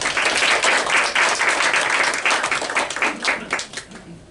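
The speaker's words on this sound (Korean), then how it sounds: "우리 김윤경 교수님 나오실 때 큰 박수 부탁드립니다" A lecture audience applauds loudly to welcome a professor to the stage. The dense clapping holds steady, then gradually thins out and fades.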